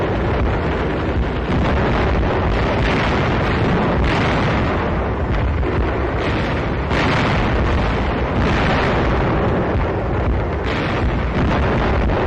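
Bombs exploding during World War II air strikes, a dense, loud, continuous rumble of blasts and booms with repeated surges, no talking heard.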